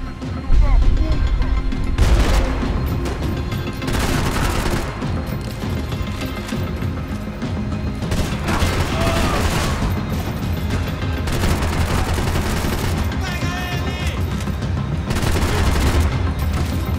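Heavy gunfire in Max Payne 3, with booming shotgun blasts among dense, continuous shooting and crashes, loud and close, with a voice talking over the action.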